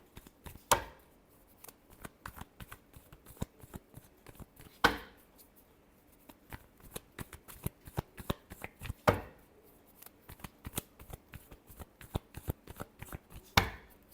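A tarot deck is shuffled by hand in a steady run of soft, rapid card clicks and rustles, with a few sharper snaps at intervals, close and fairly quiet, no voices.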